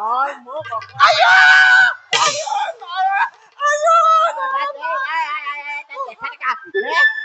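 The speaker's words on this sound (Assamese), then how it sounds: "তাই চিঞৰখিনি শুন" A woman screams loudly in an Assamese bhaona folk stage play, with repeated high, wailing cries that break off and return among excited voices across the whole stretch.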